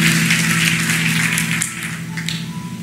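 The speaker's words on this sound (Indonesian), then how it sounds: "Kasih tepuk tangan yang paling luar biasa," A church congregation claps enthusiastically, a dense loud wash of applause that fades slightly toward the end, with a low sustained instrumental hum underneath.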